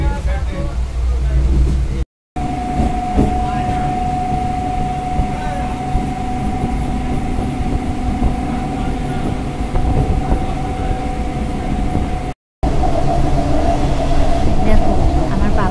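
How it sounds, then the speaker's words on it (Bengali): A Sealdah–Shantipur local train runs in the morning, heard from inside the carriage as a loud, steady rumble with a constant whine and rattling throughout. "আমরা উঠে পড়লাম সকাল 8:55 শিয়ালদা শান্তিপুর লোকালে"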